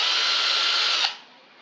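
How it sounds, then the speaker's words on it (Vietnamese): A DeWALT cordless drill driver with 25 clutch settings and drill, screwdriver and hammer modes spins up loudly and steadily up close for about a second, then cuts off and leaves a short fading whine. "Đây là máy khoan bắt vít có 25 cấp trượt và 3 chế độ"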